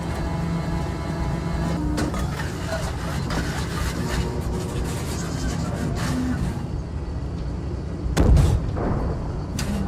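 Tank cannon fire in a T-64 combat video game, a rumbling low-heavy battlefield bed with one loud booming shot near the end, close and prominent over ongoing vehicle and gunfire noise.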